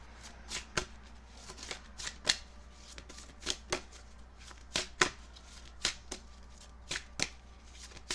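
Tarot cards being shuffled by hand, a steady run of soft, crisp riffling snaps repeating every half second or so, close and fairly quiet, with no talking.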